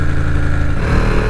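A Ducati Panigale V2 engine runs loud and close on a wet ride, a dense continuous roar with a steady throbbing rumble and no speech.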